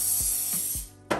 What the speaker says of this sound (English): I'm gonna go ahead and spray some non-stick cooking spray to our pan.